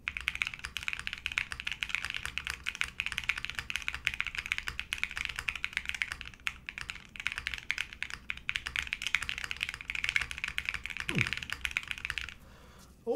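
Fast, steady typing up close on a mechanical keyboard fitted with Epsilon switches, thick XMI PBT keycaps and a PC plate, giving a dense run of soft, even clacks that stops briefly near the end.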